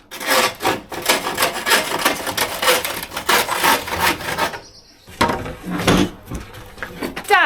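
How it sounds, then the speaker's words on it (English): A saw cuts through a wooden flagpole with fast, rhythmic rasping strokes, close and loud. The strokes pause briefly and then resume for a few more passes. "So a little bit of pressure down, opens it up, and then the saw can glide."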